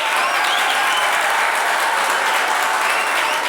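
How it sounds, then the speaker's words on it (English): A crowd at a game show-style event breaks into loud, sustained applause mixed with cheering, close and continuous from start to finish with no voices over it. "And the crowd goes wild."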